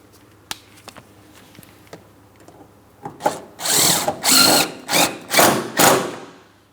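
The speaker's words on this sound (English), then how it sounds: "let's install that 1 mounting bolt in the corner here" A power tool drives a bumper mounting bolt on a 2003-2007 Cadillac CTS: a few faint clicks first, then several loud close whirring bursts in quick succession, with no talking.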